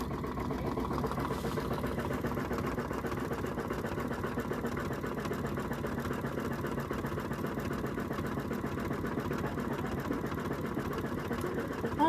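An embroidery machine stitches a long satin stitch on an in-the-hoop gift card holder, a steady, fast mechanical whirring that runs unbroken and fairly close for the whole stretch with no talking.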